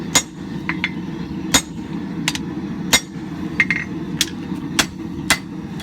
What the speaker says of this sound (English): I'm going to use a tool called the bottom fuller